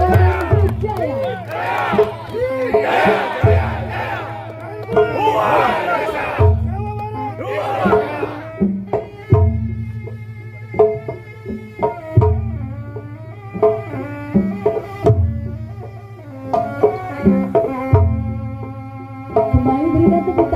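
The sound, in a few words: crowd applause and cheering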